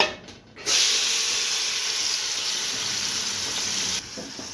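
Spices and vegetables for potato-eggplant sabzi hit hot oil with a sudden loud sizzle that holds as a steady frying hiss, then drops back sharply near the end, with no talk.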